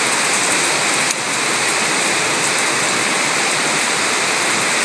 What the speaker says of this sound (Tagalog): nadidiligan sila ng ulan